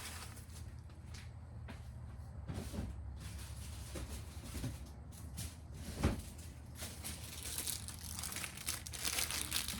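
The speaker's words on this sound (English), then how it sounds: "I wrap everything in tissue paper" Tissue paper crinkles and rustles steadily while items are wrapped for shipping, a close, continuous papery sound with soft thumps and one sharper knock mid-way, no talking.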